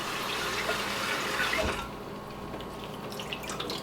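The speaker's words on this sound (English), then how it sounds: "I'm gonna rinse it out really quick." A small secondhand teapot rinsed under a running kitchen tap, a steady close hiss of flowing water that changes tone and softens partway through as the stream shifts.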